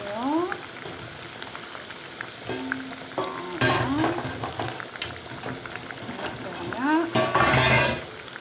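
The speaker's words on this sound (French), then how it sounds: "Il fallait juste faire un peu caraméliser, voilà, les oignons." Onions caramelize in palm oil in a pot, a continuous sizzle with bursts of louder bubbling and crackle, while a few clattering stirs and chirping bird-like squeaks sit on top.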